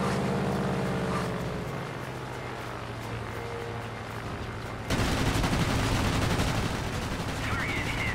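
Sustained machine-gun fire from a World of Warplanes aircraft, a dense continuous rattle over engine drone that grows louder and harsher partway through.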